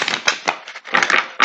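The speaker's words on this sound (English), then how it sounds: "Oracle deck cards. I'm shuffling." Oracle deck cards being shuffled by hand, a quick run of crisp papery riffles and taps lasting about a second and a half, close and clear with no talk.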